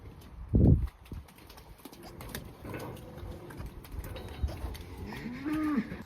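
Cows and calves moo on a farm, one loud close low moo early, then fainter calls and a rising bellow near the end, over hoof shuffling and general livestock bustle outdoors.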